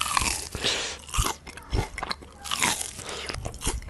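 Crunchy nuggets coated in sambal are bitten and chewed close to the mic, giving loud, repeated crisp crunches in an uneven rhythm with no talking.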